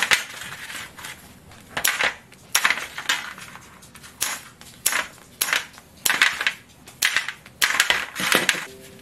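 Homemade Korean yeot taffy being cut into bite-size pieces, a series of sharp, clacking chops of a blade striking a board, repeated in an irregular rhythm of about a dozen close, crisp hits with no talking.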